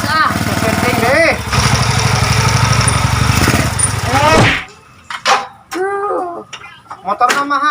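A motorcycle engine runs loud and steady at close range, its rumble cutting off abruptly partway through, after which people talk.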